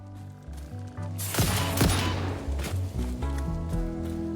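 In the video game Satisfactory, a short burst of gunfire aimed at creatures cracks out in a few quick shots over a humming musical background, close and moderately loud.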